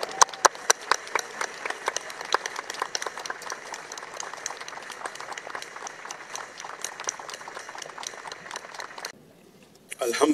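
A large crowd in Karachi applauds to welcome Dr Zakir Naik at a mass public gathering, with thick sustained clapping for about nine seconds that then drops away sharply into near quiet.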